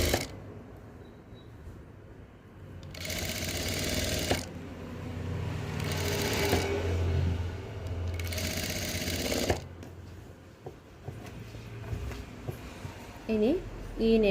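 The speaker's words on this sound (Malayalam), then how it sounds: "ഇനി ഇതിൽ നെക്ക് വെച്ച് തയ്ക്കാവേ." A sewing machine stitches a neckline onto a garment piece in three long runs of steady whirring, each a few seconds, with brief pauses between and a quieter hum and handling sounds after; no one talks over it.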